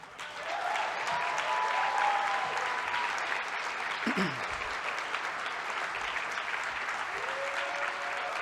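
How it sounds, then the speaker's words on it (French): Audience at a French political gathering breaks into sustained applause, a dense steady wash of clapping lasting the whole stretch, with a voice briefly heard over it. "veux à nouveau remercier Mégane et Camille, qu'on peut applaudir à nouveau."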